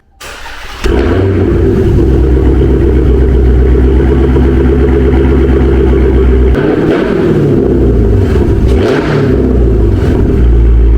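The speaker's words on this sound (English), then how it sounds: "About to do a cold start for y'all." A BMW M3 G80 engine cranks and fires on a cold start, then settles into a loud, rough rumble with a couple of revving surges near the end.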